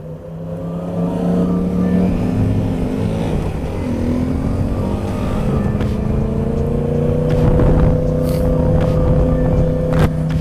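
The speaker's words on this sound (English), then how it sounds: "That's an R1 with a side exhaust." An R1 motorcycle with a side exhaust revs loudly and steadily, its engine note rising and falling in a sustained, close-up drone with no talking.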